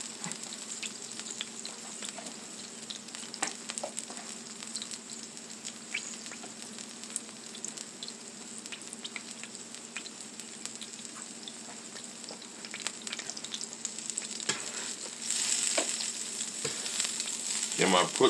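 Onions and peppers crackle on a hot griddle in a steady close sizzle, with light scraping taps, growing a bit louder near the end; no talking.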